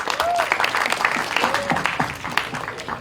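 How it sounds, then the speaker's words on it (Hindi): An audience claps steadily at an event, a continuous wash of applause with a few brief voices calling out over it. "भूषण जी को एक बार जोरदार ताली चाहिए"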